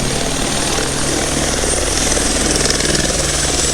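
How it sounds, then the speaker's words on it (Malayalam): A sightseeing helicopter bound for Mount Cook in New Zealand lifts off, its rotor thumping rapidly inside a loud, steady engine roar close by. "ഹെലികോപ്റ്റർ പോവുകയാണ്."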